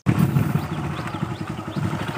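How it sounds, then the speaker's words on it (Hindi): A motorcycle engine putters with a steady, close, rhythmic throb while riding through a village, alone and fairly loud. "दोनों अभी निकल गया घूमने के लिए बाइक में"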